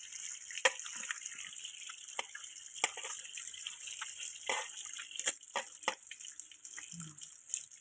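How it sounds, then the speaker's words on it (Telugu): Tap water runs steadily over leafy greens in a perforated basin in a home kitchen, with occasional splashes and drips as the leaves are rinsed, close and moderately quiet, no voices. "పప్పు ఉడికాక ఇగో ఆకు వేద్దామని శుభ్రంగా నేను కొలాయి కింద పెట్టి కడిగేస్తున్నానండి"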